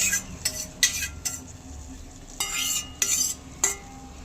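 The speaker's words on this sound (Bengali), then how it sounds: "এবার ভালো করে একবার নাড়িয়ে ফুটিয়ে নেব" Almond milk tea being stirred in a pot, a spoon scraping and clinking in several sharp bursts with a faint bubbling simmer between them.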